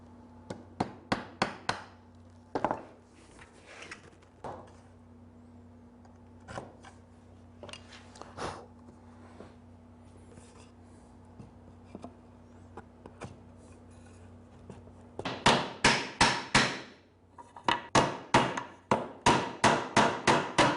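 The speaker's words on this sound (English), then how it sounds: "I have a little bit of paring to do, which I'll do with my straight chisel." A straight chisel pares wood at a workbench while building a small cabinet with dovetails. Crisp, close taps and cuts come in scattered clusters, turning to a dense rapid run of strikes near the end, with no talk.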